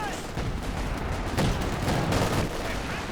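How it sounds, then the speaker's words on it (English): Artillery barrage in the video game Company of Heroes 2 during a 2v2 match: a rapid series of gunfire-like cracks and dull booms, fairly faint and dense, with a voice talking over them. "Barrage over here forces the Grenadier away."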